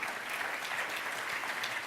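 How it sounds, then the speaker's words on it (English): An audience at an academic panel session claps for the speakers, a dense, even wash of applause lasting the whole short moment, slightly distant and without voices. "that applause was well deserved"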